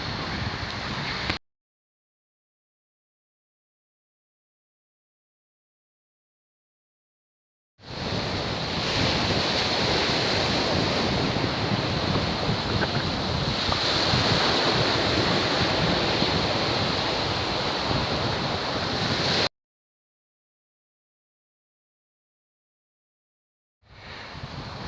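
Waves and wind on the beach at Covehithe, a steady broadband roar of surf with wind buffeting the microphone. It runs for about twelve seconds and is cut off by long stretches of silence before and after.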